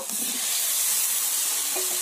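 Spice paste and fried potatoes sizzle steadily in a frying pan, a bright continuous hiss with faint stirring, close and alone.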